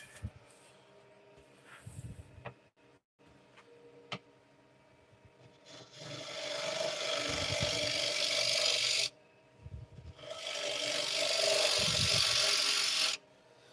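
A wood-turning push cut on a lathe, close scraping and rasping bursts of tool against spinning wood that swell into two long, loud, hissing passes, separated by quieter moments of rubbing and small knocks.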